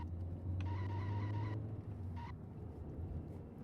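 Engine drone of cars racing in an unreleased, unfinished 1996 PS1 racing game, a steady low rumble with brief high tonal whines layered on top, no talk.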